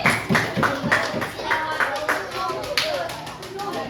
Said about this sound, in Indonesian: Betul, tepuk tangan lagi.